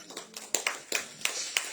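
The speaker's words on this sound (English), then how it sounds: "Clap your hands and celebrate God." A church congregation claps in a loose rhythm of about six distinct hand claps, fairly faint and spaced out, with no speech over them.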